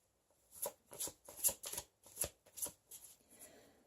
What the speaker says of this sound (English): They're Dorian Virtue's Angel Oracle Tarot, cards.